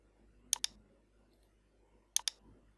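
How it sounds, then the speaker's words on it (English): Two quick mouse clicks on a computer, each a sharp double tick, one early and one near the end, close and crisp over quiet room hum. "click on apply and OK"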